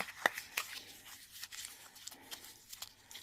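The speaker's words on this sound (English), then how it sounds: "I'm going to see what happens if I sand it and crumple it at the same time" Glossy paper pages are sanded and crumpled together, giving faint, close scratchy rustles and a few sharp crinkling snaps in an otherwise quiet room.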